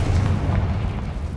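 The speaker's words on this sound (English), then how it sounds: "Confringo!" A fiery Confringo spell blast in Hogwarts Legacy, a loud rolling explosive boom filling the whole moment with heavy low rumble.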